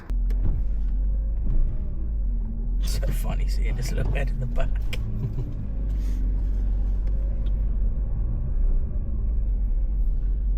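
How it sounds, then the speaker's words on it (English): A first car driven out on the road to warm up, its low engine rumble steady and close from inside the cabin throughout, with a burst of rattling and bumps midway and people chatting over it. "Let's take the car out, get it up to temperature."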